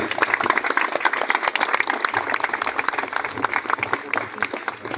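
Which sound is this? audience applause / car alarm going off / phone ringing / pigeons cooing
audience applause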